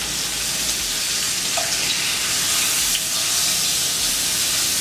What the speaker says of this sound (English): This deep fry, guys, whole thing swimming in there.